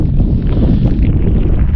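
Strong mountain wind buffets the microphone in a continuous loud, rumbling roar with no other sound breaking through.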